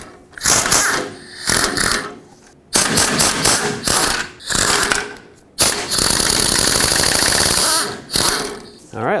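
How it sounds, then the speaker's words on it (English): Ratchet wrench loosening 13 mm oil pan bolts from underneath a 1997-2003 Ford F-150 with a 5.4L engine, heard in several loud bursts of rapid clicking separated by short pauses. "the last thing is to get out the oil pan bolts from underneath"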